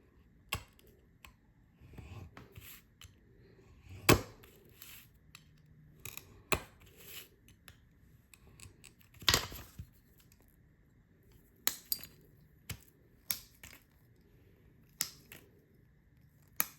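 Scissors snipping through paper or a thin sheet while cutting out a ghost shape for a fused glass haunted house scene, heard as scattered sharp close clicks and snips with quiet pauses between them.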